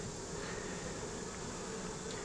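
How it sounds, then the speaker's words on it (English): A dense, steady buzz of many honeybees on a hive frame fills the clip, close and continuous with no pauses. "Lots of bees on here"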